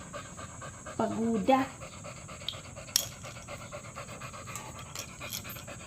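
A tired dog pants after a walk, with a steady, quick breathy rhythm close to the microphone, while a person speaks briefly over it.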